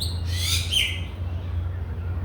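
Myna birds at a zoo in Hong Kong's botanical garden give a burst of bright chirps and whistles early on, a second shorter call following, over a steady low background hum.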